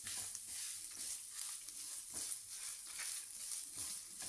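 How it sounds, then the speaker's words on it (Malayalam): Grated coconut roasts in a pan over medium-low flame, giving a faint, continuous soft sizzle with light, irregular stirring scrapes and no voices. "തേങ്ങ ഇട്ടിട്ട് നല്ല പോലെ ഒന്ന് വറുത്തെടുക്കുക"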